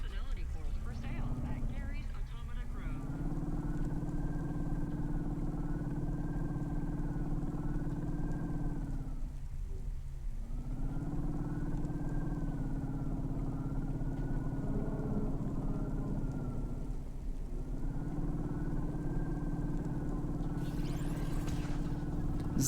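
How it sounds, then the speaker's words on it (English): Car engine in the Cloudpunk video game drones steadily with a rough, uneven tone, dipping briefly twice and then resuming, loud and continuous throughout. "I don't like the noise my engine is making"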